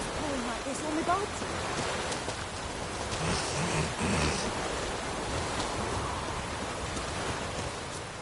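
Heavy rain pouring in The Witcher 3: Wild Hunt, a steady dense hiss of falling water that runs unbroken throughout at fairly loud level, with a few faint tonal sounds early on.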